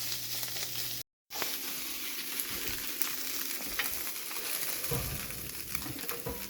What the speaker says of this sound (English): sometimes that ground beef likes to get stuck in that cast iron skillet. If that happens, you scrape it out, you know.